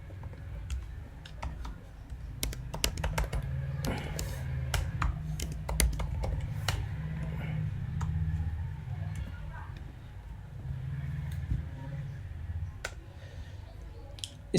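Code is typed on a computer keyboard with quick clusters of crisp key clicks and short pauses. Someone talks steadily over a low background hum.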